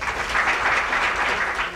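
An audience claps steadily and warmly to welcome author Tama Janowitz, the dense applause holding at an even level throughout.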